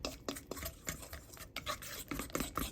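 Egg mixture with cornstarch for an eggplant omelette is beaten by hand in a bowl, making quick, quiet, close-up clicking and sloshing strokes in an uneven rhythm.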